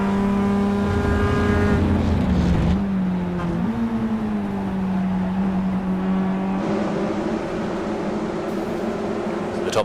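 Onboard engine of a roadster race car at Motegi, loud and close throughout, pitch climbing and dropping through gear changes while running in another car's slipstream, with commentary talking over it.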